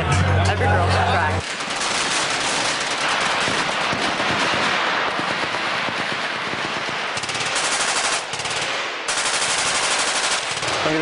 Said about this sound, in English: Look at this woman shooting right here.